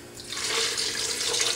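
Water pouring steadily into a blender holding almonds, a continuous bright splashing gush for under two seconds with no voices.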